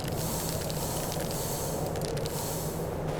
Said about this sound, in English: Let's spray a little bit of starting fluid in there and see if she starts.